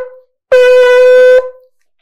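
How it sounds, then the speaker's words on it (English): A shofar sounds tekiah, teruah, tekiah: a short opening note, then a long blast with a wavering middle section, ending in a brief tail, loud and close. "According to Rashi, your full set of Tkia, Trua Tkia, is going to sound like this."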